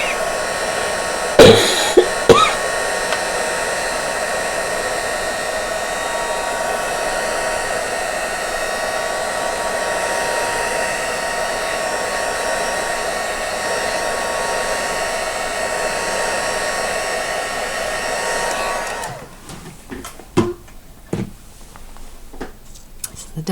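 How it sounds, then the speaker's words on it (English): A heat gun set on low blows steadily to dry ink on a printing block, a constant close whirring hum with a couple of handling knocks early on, then it cuts off, leaving scattered clicks and taps. "I'm just going to take my heat gun and set this"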